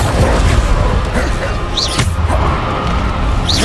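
Bombarda blasting spell cast in Hogwarts Legacy, a loud thudding impact over continuous game noise and music, with a sharp whooshing zap effect recurring near the middle and end.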